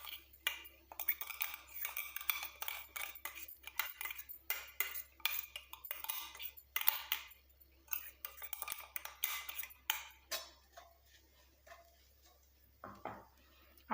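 Clinks and scrapes of a metal spoon against a hot iron kadai as a ground mixture is tipped in and stirred, a busy, quiet clatter of rapid small knocks close by.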